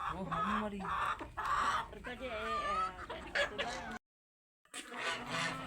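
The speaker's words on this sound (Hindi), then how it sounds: "अब्दुल्ला ये मुर्गा और वो मुर्गा दोनों हम उम्र हैं कि ये दूसरा है?" Roosters and hens cluck and call close by on a farmyard, several overlapping bird voices in irregular bursts, with a short silent gap near the end before the clucking resumes.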